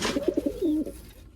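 A pigeon coos close by, a short run of soft throaty notes ending in a longer rolling coo.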